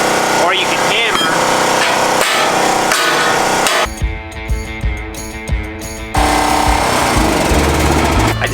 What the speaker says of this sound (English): or you can hammer.